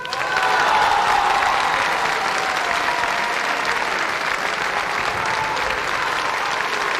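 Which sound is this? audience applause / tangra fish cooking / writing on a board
audience applause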